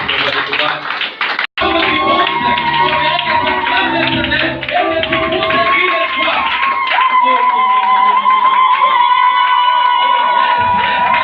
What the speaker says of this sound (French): Acclamons pour les acclamations.